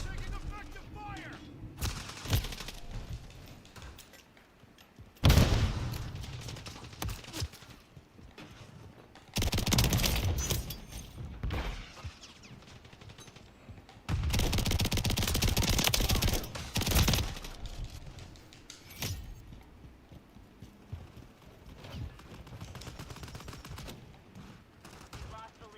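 Bursts of automatic gunfire and weapon fire in Call of Duty Modern Warfare III, loud volleys in several separated waves with quieter gaps between, and game voices calling out over the shooting.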